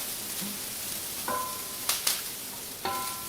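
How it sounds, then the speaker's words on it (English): Peas go into a sizzling pan of Brussels sprouts and asparagus stir-fry, a soft continuous frying hiss broken by a few sharp clinks and scrapes of a utensil against the pan, with no one speaking. "Now we're going to add in the peas, just so they get a little green."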